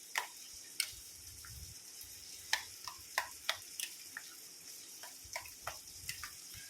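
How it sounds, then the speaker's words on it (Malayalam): Onion and tomato being stirred into curd for a salad, soft wet squelching with scattered sharp spoon clicks against the bowl, quiet and close, without any voice. "ഈ തൈരുമായിട്ട് നല്ലതുപോലെ ഇളക്കി യോജിപ്പിക്കുക"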